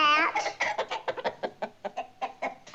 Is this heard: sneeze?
no